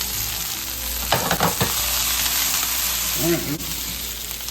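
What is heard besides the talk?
chicken frying in a pan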